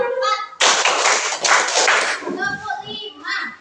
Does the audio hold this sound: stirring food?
no